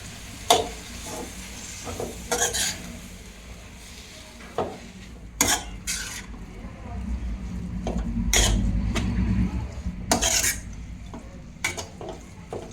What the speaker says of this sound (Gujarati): અને આપણે જે ટમેટા લીધા છે એની ગ્રેવી નાખી દઈશું, અને બધું જ મિક્સ કરી લઈએ.